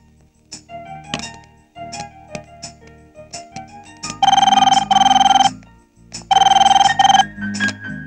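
An international phone call being placed: a few keypad tones and clicks, then two loud bursts of electronic ringing, each lasting about a second, heard clearly and alone.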